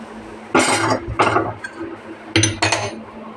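Cooked dal is poured out of a pot onto a plate to cool. Four sharp, close scraping clatters of utensil against metal come in two pairs, with quiet pauses between.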